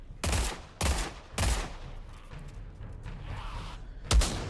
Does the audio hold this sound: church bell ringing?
no